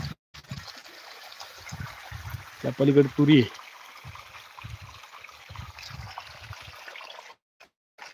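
Irrigation water from a pump motor runs through a farm field near sugarcane as a faint, steady trickling hiss beneath someone talking nearby.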